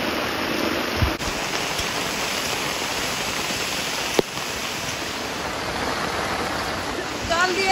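Heavy rain pours steadily outdoors while a fish curry cooks under an umbrella by a river, a dense, even hiss with a couple of sharp knocks and occasional voices underneath.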